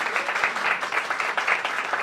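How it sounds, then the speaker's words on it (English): Audience applause for a cherry blossom festival team, a dense, steady round of clapping from a crowd that holds at an even level for the full two seconds. "Let's give Team Cherry Blossom Festival a big round of applause."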